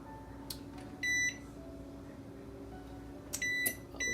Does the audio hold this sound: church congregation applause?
no